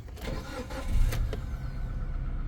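A car engine cranks briefly and catches, then settles into a steady low idle, heard up close with no talking.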